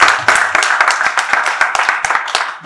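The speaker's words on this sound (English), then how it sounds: "A round of applause for him, please." Audience applause for a professor at a diplomatic visit event, many hands clapping in a lively, sharp-edged stream with individual claps standing out, steady and fairly loud throughout.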